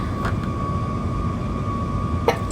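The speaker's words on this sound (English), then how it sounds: "Okay, the engine sounds very good." A Boeing 737 Max 8 jet engine in the X-Plane 11 flight simulator holds a steady, loud roar with a constant whine, and a brief click or bump sounds near the end.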